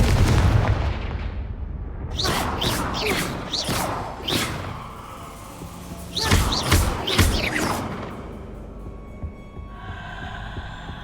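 Confringo spell blasts in a Hogwarts magic video game: loud, booming bursts that come in two quick clusters, several impacts each, with a rumbling low end, followed by a fading tonal shimmer.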